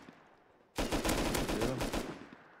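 Rapid automatic gunfire in a video game bursts in suddenly after a quiet moment, a loud, close stream of shots lasting over a second before trailing off.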